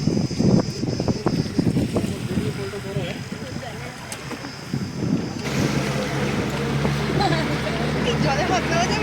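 A small boat passing on the Maithon Dam reservoir, its engine a steady low drone with water and wind noise, growing fuller in the second half, while people talk nearby.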